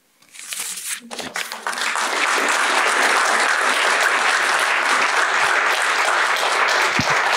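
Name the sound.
audience applause after a talk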